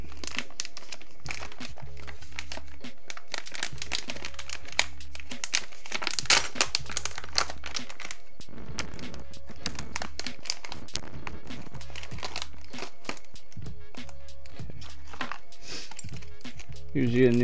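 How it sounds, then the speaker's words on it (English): A new dual gear extruder upgrade kit for an Ender 3 printer is unpacked, with repeated close crinkling and rustling of plastic packaging, some handling knocks, and intermittent talking. "Now we'll open the new kit."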